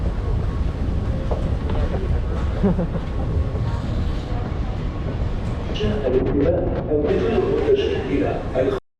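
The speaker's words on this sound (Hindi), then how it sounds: "फिलहाल हम लोग आ गए दुबई मेट्रो स्टेशन में।" A Dubai Metro train rumbles and rattles through a station, with broadband mechanical noise and brief clattering toward the end, and voices mixed in beneath.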